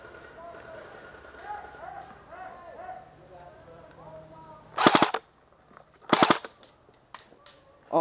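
Airsoft guns fire during an airsoft game in two sharp, loud bursts of rapid shots, with a third burst starting at the end, while people talk quietly over a busy outdoor background.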